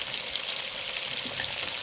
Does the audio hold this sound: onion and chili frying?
yes